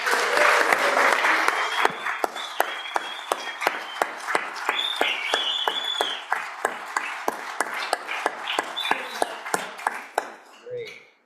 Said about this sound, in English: So one more round of applause as they're walking out.